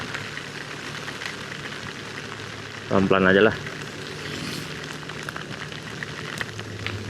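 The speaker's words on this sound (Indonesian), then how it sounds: "dia dihantam hujan." Heavy rain drums steadily on a car moving along an Indonesian road, a dense, constant hiss inside the cabin, and a voice speaks briefly partway through.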